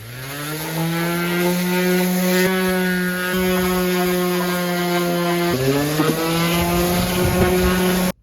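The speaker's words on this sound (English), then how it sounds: "I'm going to just hit this with a little more sanding" A power tool whines with a loud, steady motor drone, its pitch dropping slightly partway through, running continuously before cutting off abruptly.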